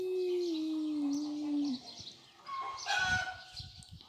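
A game chicken in Brawl Stars crows with a long drawn-out call, then gives a few choppy clucks mixed with other game sounds, close and fairly clear.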